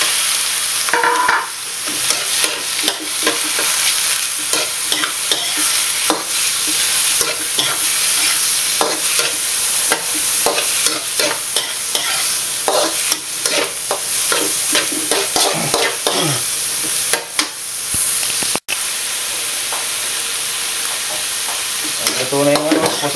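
Shrimp and squid are stir-fried in a pan for seafood fried rice, with a loud, steady sizzle and frequent scraping and clattering of the spatula.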